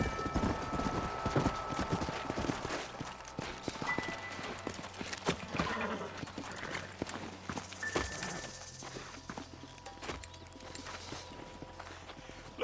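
Horse hooves clip-clop steadily on hard ground in Red Dead Redemption, several animals walking together, with faint clatter and ambient game sounds around them.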